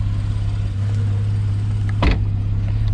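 A triple-black 2012 Porsche 911 Carrera S launch-edition PDK coupe with a switchable sports exhaust idles with a steady, low, close-up drone, broken once by a brief sharp throttle blip.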